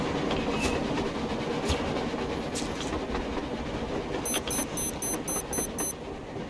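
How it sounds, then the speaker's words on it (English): A train rumbling steadily past with a continuous clattering roar on the surface in the video game Metro Exodus, and a brief series of high electronic beeps near the end. "A train! A damn train on the surface!"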